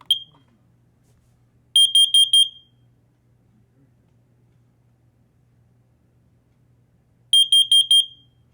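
A smoke alarm gives two bursts of four shrill, piercing beeps each, separated by several seconds of near silence with a faint low hum.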